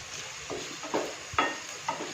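Sliced shallots and green chillies sauté over a medium flame for a coconut-free onion theeyal, with a faint, even sizzle and three or four soft scraping stirs spaced roughly half a second apart.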